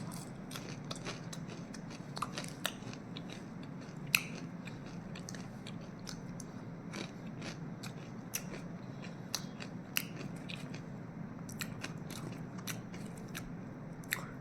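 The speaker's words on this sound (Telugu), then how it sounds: "కానీ ఈ ఆలూ పకోడీ ఫస్ట్ టైం తింటున్నాను" Crispy aloo pakoda potato fritters are crunched in quick, close, sharp bites and chews over a quiet low background hum.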